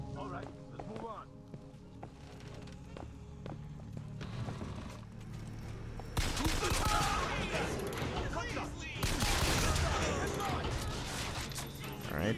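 Pistol shots ring out in the video game Bioshock Infinite, with sharp bursts of gunfire breaking through a busy game soundscape while a voice talks over the action.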